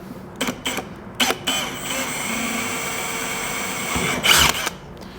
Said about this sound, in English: it's just a little easier now to drill a hole through